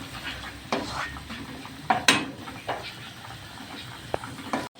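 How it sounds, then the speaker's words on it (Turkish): Tomato paste sautés in a pan for pasta sauce, stirred with a utensil that scrapes and knocks against the pan in irregular clinks over a low background sizzle, close by. "Salçamızın da kokusu çıkana kadar 1-2 dakika kavurmaya devam edelim."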